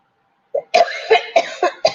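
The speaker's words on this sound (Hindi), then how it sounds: "माइक के बीच में खांसो" A person coughs close to the microphone in a classroom setting: one short cough, then a run of four or five sharp, evenly spaced coughs, loud and near, with no talking.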